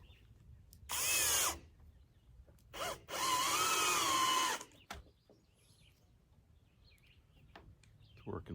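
A power drill drives screws in two loud bursts, one short and one longer, with quiet gaps between them, a few clicks, and birds chirping faintly in the background.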